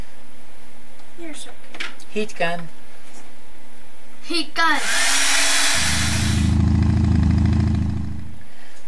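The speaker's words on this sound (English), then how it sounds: "Can I please use the blow dryer real quick?" A heat gun blasts loudly for a few seconds to dry watercolor paint on a shoe, its roar shifting from a high hiss to a deeper rumble, after brief speech and clicks at the start.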